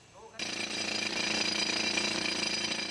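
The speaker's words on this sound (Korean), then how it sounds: "우선 암석에 구멍을 뚫는 기구인 차감 드릴을 사용해 천공 작업에 들어가기로 했다" A pneumatic rock drill bores holes in marble at the Makrana quarry in India, kicking in abruptly after a brief quiet moment and then hammering loudly and continuously.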